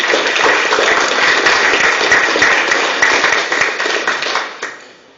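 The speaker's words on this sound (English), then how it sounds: "Let's give them a round of applause as well." Sustained audience applause at a Master Gardeners general meeting, honoring 2024 interns, steady dense clapping that holds for several seconds and then tapers off.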